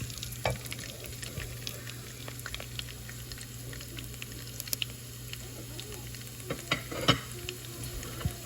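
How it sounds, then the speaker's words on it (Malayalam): Sliced garlic frying in hot oil for chow mein, a soft continuous sizzle with scattered crackles and pops, quiet and close. "ഈ ഓയിലിലേക്ക് വെളുത്തുള്ളി ഇട്ട് കൊടുത്തു."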